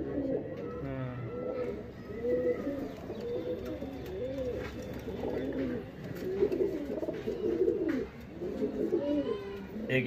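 Racing pigeons coo repeatedly in soft rolling phrases from close by, several birds overlapping over a low background hum, with a voice faintly underneath.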